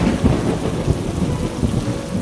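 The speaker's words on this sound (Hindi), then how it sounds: "जब हम कावड़ेसाद पॉइंट को आके पहुंचे थे तब जोरदार बारिश गिर रही थी।" Heavy monsoon rain pours down at Amboli, with a thunderstorm rumbling through a dense hiss of rain hitting the ground, continuous and close, with no voices.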